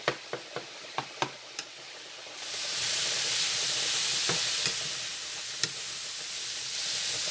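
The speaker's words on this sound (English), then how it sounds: "Got our potatoes over here boiling real good as well." Potatoes boil in a pot for a casserole, giving a steady hiss of bubbling water that swells after a few quiet seconds. Several sharp knocks and clinks of utensils against cookware come through early and again later.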